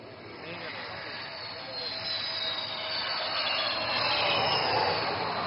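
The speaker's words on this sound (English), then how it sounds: "this twin-engine fighter demands nothing but absolute precision while landing on this highway" A twin-engine fighter jet weighing over 38 tons lands on a highway, its engine roar a steady, broad rushing noise that builds gradually, with a faint high whine and no talk.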